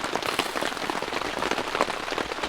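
Heavy rain drums steadily on a hot tent in a deep forest during group camping, a dense, continuous patter of drops close overhead with no break.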